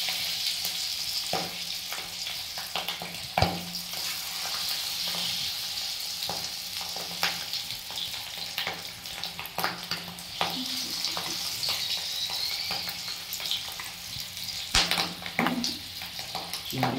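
Marinated prawns fry in hot oil in a wok, giving a loud, close, sputtering sizzle with sharp pops and crackles and occasional utensil clinks throughout.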